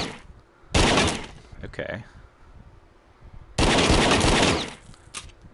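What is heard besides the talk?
revolver gunshots in video game The Walker, PSVR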